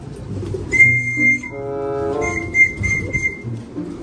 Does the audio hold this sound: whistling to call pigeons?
yes